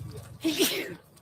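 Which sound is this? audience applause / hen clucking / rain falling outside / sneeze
sneeze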